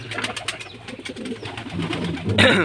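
Pigeons in a loft give a soft, throaty coo against a steady low hum, with the burbling calls rising and falling close by, and a brief rustle near the end.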